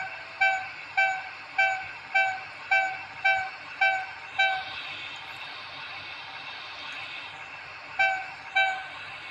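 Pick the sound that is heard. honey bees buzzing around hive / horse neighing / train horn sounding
train horn sounding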